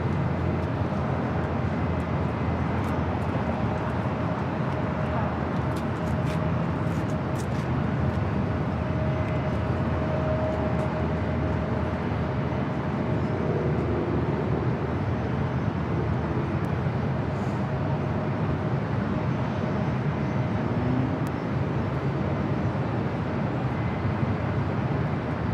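Lufthansa Airbus A380 on short final into LAX after a flight from Munich, a steady broad engine roar heard from a distance that holds even and unbroken throughout with no voices.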